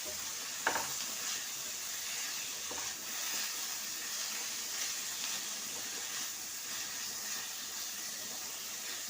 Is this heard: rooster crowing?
no